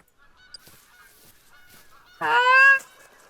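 Geese honk in theHunter: Call of the Wild: a few faint distant calls, then one loud, close burst of honking from the flock lasting about half a second.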